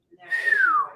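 A person whistles a single sustained note imitating a bird, sliding gently downward in pitch, clear and close, alone after a small click.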